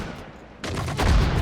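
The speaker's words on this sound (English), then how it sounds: "An AT gun spotted and the artillery already firing at it." Artillery and gunfire in the WWII strategy game Sudden Strike 4 during a factory assault, with a quieter stretch giving way to a heavy barrage of repeated blasts, then deep booming impacts that grow louder toward the end.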